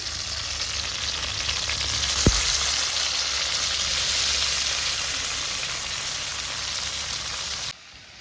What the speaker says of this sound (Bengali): কড়াতেই একটু তেল দিয়ে দিলাম টমেটোটা এর সঙ্গে দেবো তো টমেটোটা ভাজবো একটু